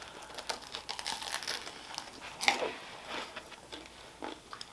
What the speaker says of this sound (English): When I eat toasted sandwiches, I want you to listen. Tell me if it sounds like my sandwich.